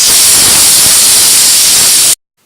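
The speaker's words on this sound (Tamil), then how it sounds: "இப்போ கரைச்சி வச்ச ரத்தத்தை இதில் ஊற்றிடலாம்." Goat blood poured into a hot pan of browned onions, a loud dense hissing sizzle that holds steady, then cuts off abruptly to near silence.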